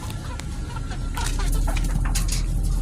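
Shamo chicken chicks, about four months old, cluck and peep softly while hiding underneath a cage, with scattered short calls over a steady low background hum.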